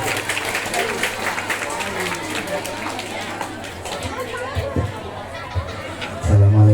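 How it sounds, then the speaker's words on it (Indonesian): School audience at a Maulid Nabi celebration in a junior high school claps for three students amid crowd chatter and movement, scattered clapping mixed with babble, voices heard throughout, with a loud low sound near the end. "Tepuk tangan untuk ketiga pemberani ini"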